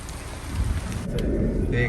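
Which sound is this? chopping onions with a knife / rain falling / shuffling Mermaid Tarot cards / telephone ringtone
rain falling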